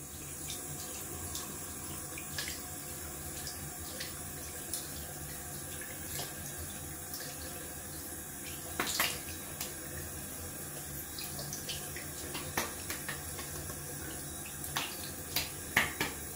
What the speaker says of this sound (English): We're gonna rinse off one last time with cold water.